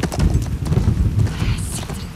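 Horse hooves gallop in The Last of Us Part II video game, a fast, steady clatter of clip-clop beats under game noise, with voices speaking over it.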